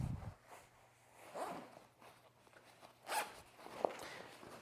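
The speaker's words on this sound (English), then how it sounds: "you've got the double zip." Double zipper being pulled on a vintage Osprey detachable daypack, a few short close rasping zips separated by pauses, quiet and alone with no talking.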